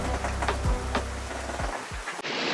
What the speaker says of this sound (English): within 10 minutes it began to rain